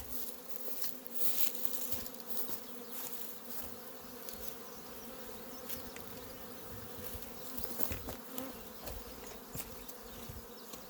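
A bee swarm buzzes continuously around hive boxes outdoors, a faint, dense, steady hum of many insects with small passing swells and no talk.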